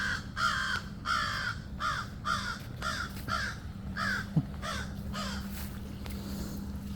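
Crow-like bird cawing outdoors along a wooded trail near a loyalist burial ground, about ten evenly spaced harsh caws in a steady rhythm, moderately near, over faint background hum with no talk.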